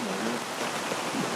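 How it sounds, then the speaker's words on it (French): Steady broadband rush of a waterfall heard at a campsite, a continuous even roar with no clear breaks, fairly soft and constant throughout. "T'as bien dormi avec le bruit de la cascade?"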